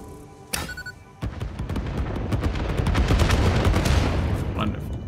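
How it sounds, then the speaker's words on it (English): Fireworks go off in the factory-building video game Satisfactory, starting with a few sharp pops and then building into a dense, continuous barrage of crackling bursts and booms that stays loud to the end. "All right, you ready for the fireworks?"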